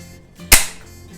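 A single sharp, close gunshot from a Mossberg 152 .22lr rifle, about 70 years old, cracks once and decays quickly in a quiet setting.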